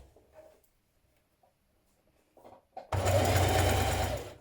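A sewing machine stitching down bias binding on a knit dress, a short steady burst of fast whirring after some quiet handling sounds.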